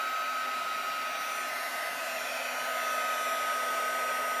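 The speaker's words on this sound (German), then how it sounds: "Wichtig beim Föhnen ist, dass man jetzt nicht wild hin und her föhnt, sondern wirklich auf einer Stelle beginnt." A hair dryer blows hot air onto a pop-up panel card, a steady, loud whooshing drone with a high motor whine that holds evenly for the whole stretch.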